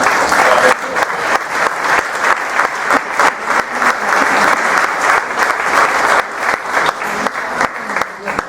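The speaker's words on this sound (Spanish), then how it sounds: "Y un fuerte aplauso pido para ese esfuerzo que cada año hacen." Loud sustained applause fills a hall at the inauguration of the Coloquios Históricos de Extremadura in Trujillo, a dense crowd clapping steadily for the organizing board and its president, with no voice over it.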